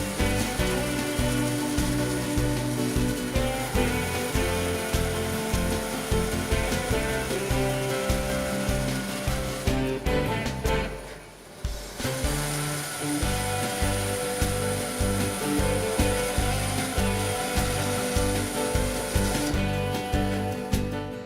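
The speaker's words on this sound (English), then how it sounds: "Working with the bandsaw table set at an angle, both of the round pieces can be cut out." A Hammer N4400 bandsaw with its table tilted at an angle cuts round wooden pieces, a steady loud whine and rasp running continuously with a brief dip partway through.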